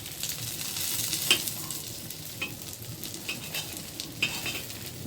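Egg frying in a pan with tomato and dried chili gives a steady close sizzle throughout, broken by a few sharp scrapes and taps of a spatula stirring and turning it.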